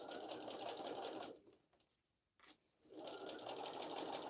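A Bernina 350 sewing machine runs in a fast, steady stitching whir, stops briefly for a quiet pause with a small click, then starts up again, close and fairly quiet.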